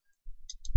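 Two quick, faint computer mouse clicks tick close by over a soft low rumble, ending in a slightly louder thump.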